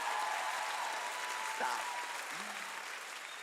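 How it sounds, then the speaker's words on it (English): An audience claps steadily throughout at a comedy show, a dense, even wash of applause with a brief spoken word cutting through. "Your claps are the foundation on which my self-esteem is built."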